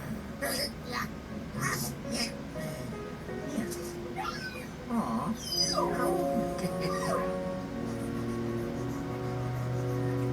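A Proto Pup from a Luigi's Mansion video game yips and whimpers in a string of short, high cries, with game music and effects running underneath at moderate level.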